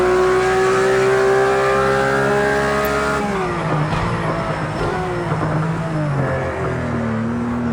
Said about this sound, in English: accelerating out of corners.